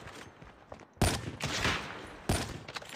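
Gunfire in the Call of Duty Mobile video game: two sharp, loud shots about a second apart, each leaving a short ringing tail over faint background noise.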